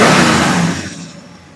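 Engine of a Chevrolet Monte Carlo SS Aero Coupe, heard loud and close as it revs hard, then winds down and fades out over about a second and a half with no talking.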